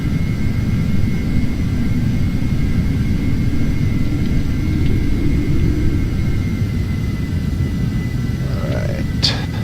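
A simulated aircraft taking off at Meigs Field in the FSX flight simulator game: a loud, steady engine roar with a faint thin whine above it and a brief click near the end, with no voices.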